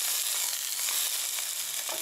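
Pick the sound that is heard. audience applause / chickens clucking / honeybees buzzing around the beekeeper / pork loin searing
pork loin searing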